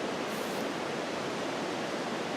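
A small creek at Potato River Falls rushes and splashes in a constant broadband hiss, close and steady from start to finish, with no voices over it.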